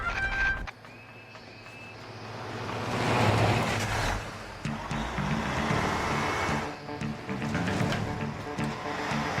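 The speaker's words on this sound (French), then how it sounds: "Un camion militaire." A military truck rumbles along in an animated scene, its low engine drone steady and loud under music and wind-like noise, swelling for a few seconds midway before settling back to a continuous roar.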